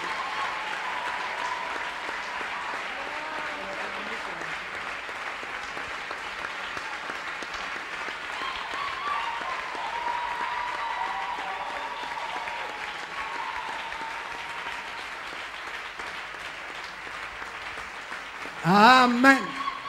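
A church congregation at a Sunday worship service applauds continuously, a sustained wash of clapping with voices and cheering mixed in, and a brief louder burst near the end.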